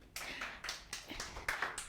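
A small family applauds after a sermon: a short, close run of hand claps in several quick bursts, with no talking over them.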